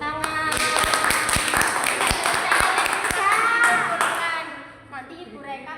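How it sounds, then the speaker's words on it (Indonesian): Rhythmic group hand clapping by a class of sixth-grade children in a school lesson, a run of sharp, evenly spaced claps close by, mixed with children's voices, before fading into quieter chatter. "tepuk tangan"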